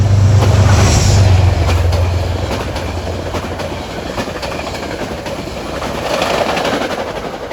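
A Metro-North Hudson line train rushes past Scarborough station, a loud close rumble with clickety-clack of wheels over rail joints that eases off as the cars pass and the roar fades slightly.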